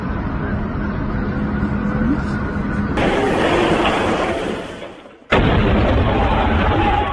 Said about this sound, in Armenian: Ուժգին պայթյուն է լսվել Դուբայի օդակայանում